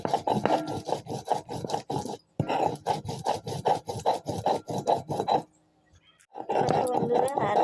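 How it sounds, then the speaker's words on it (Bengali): Ginger and cumin are ground into a spice paste with rhythmic, raspy back-and-forth rubbing strokes at close range, pausing briefly near the end before the scraping resumes. "আদা আর জিরাটা বাটা হয়ে গেছে"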